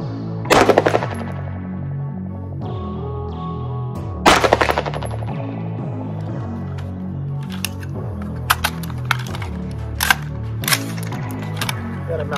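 Rifle shots fired at a target 100 yards out through a simple red dot optic: a loud sharp report near the start, another around four seconds, then a run of quicker, smaller cracks over a steady background hum.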